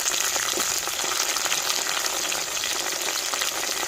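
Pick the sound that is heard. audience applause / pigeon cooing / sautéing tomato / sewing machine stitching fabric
sautéing tomato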